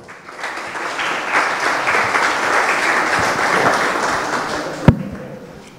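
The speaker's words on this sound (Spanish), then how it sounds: "Por favor, recibamos al compañero con fuertes aplausos." Sustained applause from an audience at a training centre inauguration ceremony, dense steady clapping that swells and holds for several seconds, with one sharp louder clap near the end.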